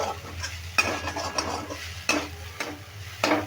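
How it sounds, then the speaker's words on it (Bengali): Chana dal fries in oil while being stirred, soft sizzling broken by several sharp spoon strokes scraping the pan at roughly regular intervals, close and alone with no talk. "এবার ডালটা দিয়ে তেলে আমি ভালো করে নাড়তে থাকবো দেখো এইভাবে নাড়াচাড়া করে একটু"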